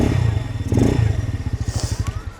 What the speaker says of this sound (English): So sounds pretty good. Love that muffler. It's a real motorcycle.